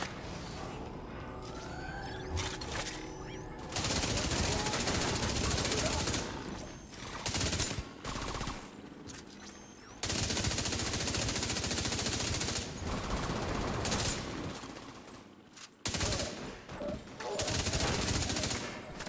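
Dense, loud bursts of police M4 rifle fire in The Division 2 shooter, rapid automatic volleys broken by brief pauses, with occasional faint talk underneath.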